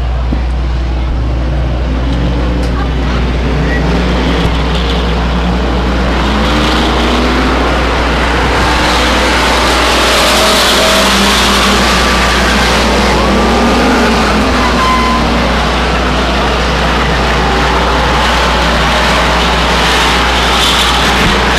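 Race cars start together at Stockton 99 Speedway, a short oval track, filling the air with a loud, continuous massed engine roar and deep rumble that lasts throughout.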